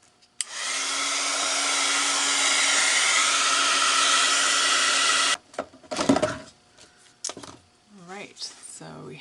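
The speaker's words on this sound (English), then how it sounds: "Get our heat tool, if I can find it." Craft heat tool blowing hot air switches on with a click and holds a loud, steady whirring hiss for about five seconds, then cuts off, followed by clattering handling noises.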